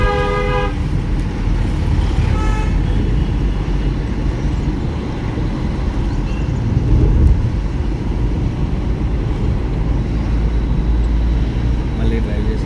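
A car driving on a road during practice drives produces a steady, close engine and road rumble, with a brief horn toot at the start, while people speak inside.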